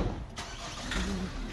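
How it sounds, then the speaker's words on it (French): A truck engine turns over and catches, then settles into a rumbling run as the vehicle pulls away, heard up close and fairly loud. "Et donc là, c'est le camion qui part"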